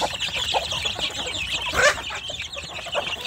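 Young Indonesian free-range village chicks cluck and peep in a busy chorus, steady and fairly close, with scratchy farmyard noise throughout.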